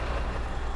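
Heavy truck engine in the snowy off-road game SnowRunner, a deep steady rumble that stays loud and constant throughout, with no talking over it.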